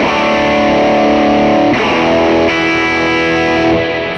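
High-gain distorted electric guitar tone through a Quad Cortex amp model, a dense sustained chord ringing loud and alone for about four seconds with a fresh strike partway through.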